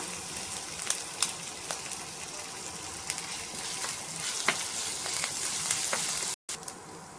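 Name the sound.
crushed ginger frying in hot oil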